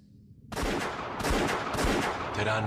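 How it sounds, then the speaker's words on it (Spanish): A rapid burst of gunfire erupts after a brief quiet start, loud close cracks and rolling reports overlapping into a sustained volley. "Terán disparó varios tiros."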